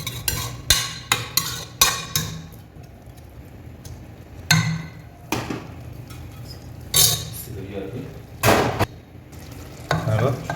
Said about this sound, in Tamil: இப்போ ரைஸ் போட்டுறேன்.